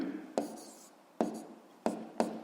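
A pen writing on paper while working a physics exercise: four short, distinct scratching strokes with pauses between them, close and quiet, with no talking.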